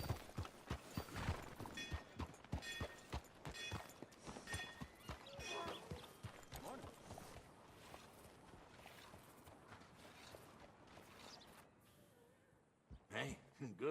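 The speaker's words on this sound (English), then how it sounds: "Hey, good-looking horse there." Horse hooves clip-clopping on the ground in the Red Dead Redemption 2 video game, a rhythmic, close walking gait over quiet ambience that slows and fades toward the end, with speech present.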